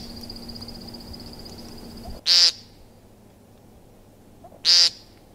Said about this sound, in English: Woodcock make interesting sounds, including the buzzy call referred to as a peent